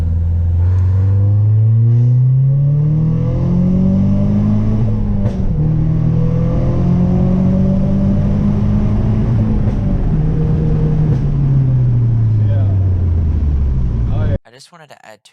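A Mazdaspeed car on a stage 1 tune pulls hard under 14 psi of boost, its engine note rising steadily in a loud, close, sustained acceleration before cutting off abruptly near the end.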